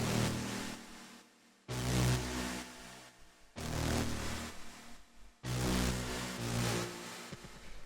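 A techno synth second lead playing a simple repeating phrase in dense, bright sustained chords, four long swelling notes separated by short dips, loud and alone with no voices.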